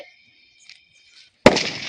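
A Diwali firecracker goes off in one loud, close bang followed by a short crackling fizz, after a moment of near silence.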